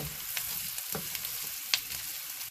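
Food fries in butter and oil in a pan for smothered pork chops, giving a soft, steady crackling sizzle with a few brief sharper pops, no voices.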